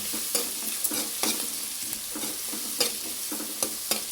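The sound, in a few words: onions frying until golden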